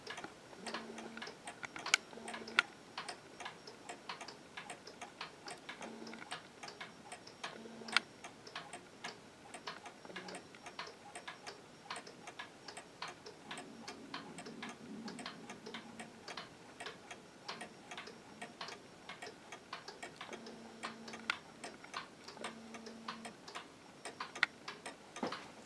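A Stuarts striking wall clock and chiming mantel clock tick steadily at home, a quiet, even mechanical tick-tock running throughout with no voices.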